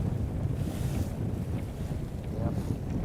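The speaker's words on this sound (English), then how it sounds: "There's a good breeze there." Steady wind roars over a sailboat on open sea during an ocean race leg, with dense rushing wind noise buffeting the microphone and faint wave wash underneath.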